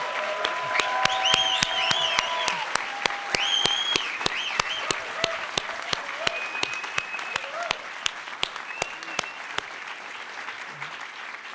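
A large hall audience applauds at the 2014 HOPE X conference closing ceremony, with dense sustained clapping and scattered crisp claps and a few whoops. It is loud at first and tapers slightly toward the end, with faint voices underneath.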